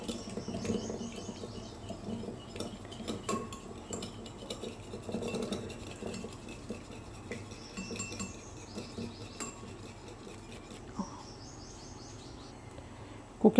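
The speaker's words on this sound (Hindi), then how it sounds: "इसको अच्छे से मिक्स करते हैं।" Whisking French toast batter in a bowl gives a steady, quiet scraping and tapping of a utensil against the dish, continuous for the whole stretch with no voices.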